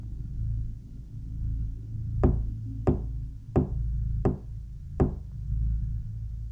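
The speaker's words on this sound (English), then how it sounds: "then start to hear knocking." Five sharp knocks spaced about a second apart in a scary video recording, each with a short ringing decay, over a low steady rumble and hum, with no talking.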